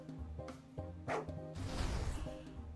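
A dog barks in the video game Lamplight Hollow: several short, punchy barks spaced over a few seconds, followed by a whooshing burst, loud and close with no speech.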